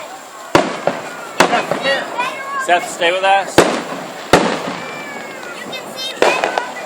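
Fireworks bursting at an outdoor display in Venetian Gardens at a medical center, with several sharp booms and crackles spread through the clip while adults and children talk and exclaim close by.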